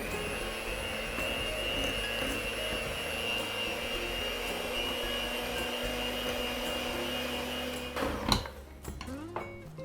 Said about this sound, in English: to make the dough smoother, I'm just gonna go with the mixer for a little